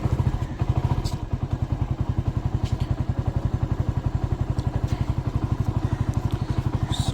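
A motorcycle engine, just started, runs with a steady, rapid thumping beat, close and loud throughout.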